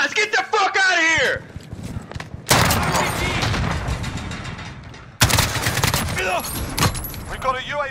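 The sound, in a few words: gunfire in Call of Duty video game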